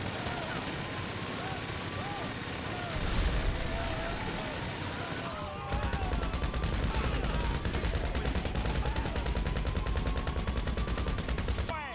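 Rapid bursts of gunfire resembling firecrackers in the video game GTA 5, a dense crackling barrage that keeps going throughout and grows louder partway through, with game sound effects layered over it and voices talking underneath.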